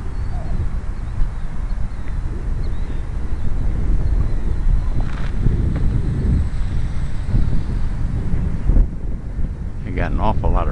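Strong wind roars and buffets the microphone continuously while a large radio-controlled model aircraft flies in high wind, with brief higher whistling tones near the end.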